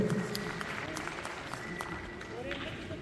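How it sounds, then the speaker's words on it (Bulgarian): Audience applause at a Christmas charity concert, a steady wash of clapping from a crowd, fairly distant and continuous, with a presenter's voice speaking over it. "Аплодисменти, дами и господа. Аплодисменти."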